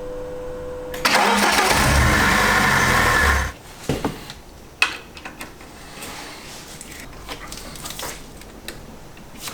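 A BMW E36 318ti with the M44B19 four-cylinder engine cranks with a loud starter whir for a few seconds, catches, then settles to a quieter idle with a few clicks and knocks over it.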